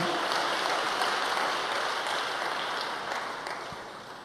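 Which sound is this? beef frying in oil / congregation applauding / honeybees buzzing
congregation applauding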